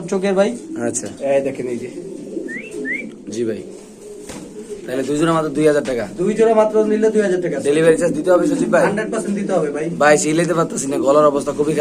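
Pigeons cooing at a pigeon farm, soft repeated throaty coos close by, heard under someone talking almost continuously throughout.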